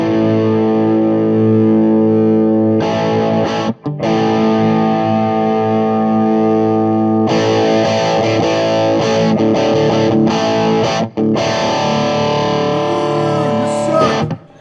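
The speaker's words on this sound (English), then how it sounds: "just in that little bit of distortion, I feel like it needs more top" Electric guitar played through a JHS AT+ distortion boost pedal, a loud, sustained and lightly distorted tone with chords ringing out continuously, with a couple of brief breaks between phrases.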